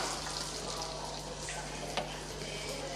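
Sliced onions sautéing in hot oil for an egg pepper masala, a steady, dense sizzle and frying hiss filling the whole stretch, close and even, with a faint low hum beneath and one small clink.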